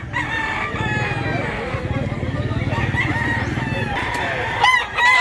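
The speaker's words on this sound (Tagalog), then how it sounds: "Gandang manok." A rooster for sale at a market in Mantalungon, Cebu crows loudly and near, with other chickens clucking around it and people talking over the racket.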